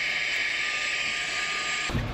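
A small handheld vacuum cleaner runs with a loud, steady whine for about two seconds, then cuts off abruptly near the end.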